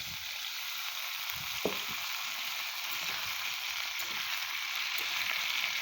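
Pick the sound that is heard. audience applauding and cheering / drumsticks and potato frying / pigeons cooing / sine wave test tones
drumsticks and potato frying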